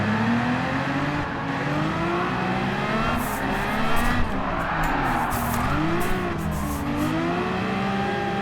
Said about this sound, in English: wrap up our test drive on the Honda Formula 1 car